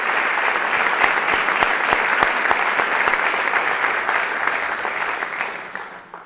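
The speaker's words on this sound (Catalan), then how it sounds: "demano un aplaudiment per ells." Audience applause fills a closing ceremony for the International Year of the Periodic Table, many hands clapping in a dense, sustained patter with sharp individual claps standing out, fading away at the very end.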